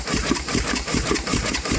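U.S. Navy launch steam engine running close and loud, its rapid regular exhaust chuffs slightly uneven as it slows.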